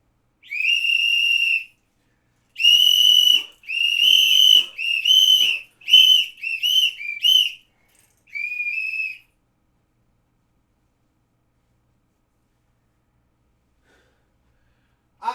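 A series of shrill whistle blasts, one long then several short rapid ones, with a final blast after a pause, loud and clear with silence between.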